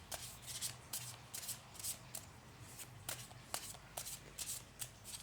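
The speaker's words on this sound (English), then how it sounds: "just a quick little bit more shuffle just to let you see that it's been done" Tarot cards being shuffled close up, a steady run of crisp riffling bursts with soft papery rubbing between them, no voices.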